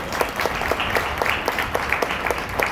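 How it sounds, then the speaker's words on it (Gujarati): Audience applause at a manifestation workshop, steady close clapping from a room of people, a little uneven, with no talking over it. "તો એ વાત પર તાળી વાગો"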